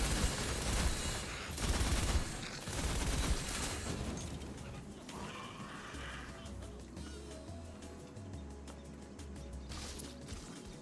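Heavy gunfire from weapons in the Wonderlands video game rattles in rapid, overlapping bursts, loud and continuous at first, then easing into lighter scattered shots over a low rumbling backdrop.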